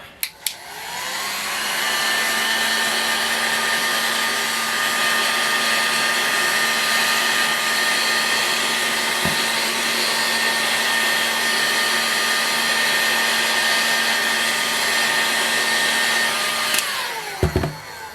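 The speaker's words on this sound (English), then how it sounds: "And then I'm going to heat it up some more. And we should be able to get that bearing out then." A hair dryer or heat gun roars steadily and loudly at close range for about fifteen seconds, warming a Boca Bearing part on a Tiger Shark 40A to free a stuck bearing, then clicks off abruptly.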